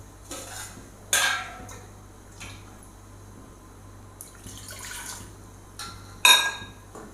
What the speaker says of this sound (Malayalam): അതിലേക്ക് നമുക്ക് 1 കപ്പ് വെള്ളം ഒഴിച്ച് കൊടുക്കാം.